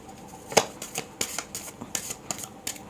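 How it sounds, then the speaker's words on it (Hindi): A deck of tarot cards is shuffled by hand, close and crisp, with a sharp riffle at the start followed by a string of lighter flicking bursts in an uneven rhythm. "एक बार और शफल करते हैं।"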